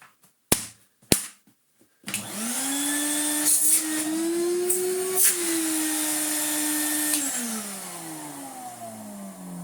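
A Numatic vacuum cleaner fitted with a replacement motor and a new face kit gives a couple of sharp switch clicks. Its motor then spins up into a loud, steady whining hum that holds close by, with slight shifts in pitch.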